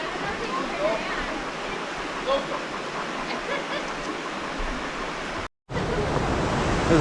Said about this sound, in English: This is what you don't want to see when you're paddling, as Steph says, points out. The top of a waterfall.